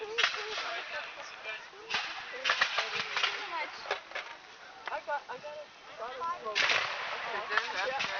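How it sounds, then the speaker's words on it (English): British musket volleys from a force of nearly 3,000 men in a War of 1812 battle, sharp cracking reports bursting in clusters over several seconds, loud and close, set among dense battle noise. "And there are those crisp British volleys."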